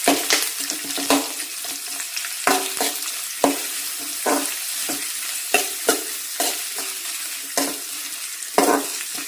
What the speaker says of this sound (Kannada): ಈಗ ಈರುಳ್ಳಿ ಸ್ವಲ್ಪ ಫ್ರೈ ಮಾಡ್ಕೋಬೇಕು